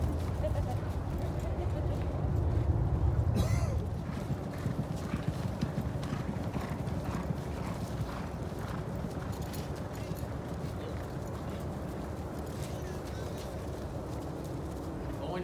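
The racehorse Owendale trots with a steady, rhythmic clip-clop of hooves, close and continuous, louder for a moment early on, while people talk at intervals over the hoofbeats.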